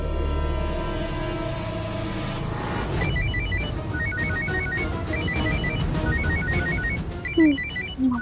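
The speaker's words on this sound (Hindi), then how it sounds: "किसी का फोन बजा ना?" A phone ringtone plays a repeating electronic melody, loud and steady, over a dense musical background that starts partway through, in a Hindi TV drama scene.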